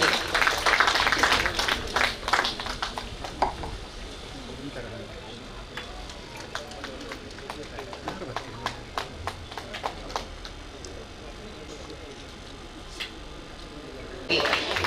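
Audience applause during a felicitation of the Home Minister at a fire station building foundation stone ceremony, a brisk burst of clapping at the start that thins to scattered claps under someone speaking over a loudspeaker, then swells again briefly.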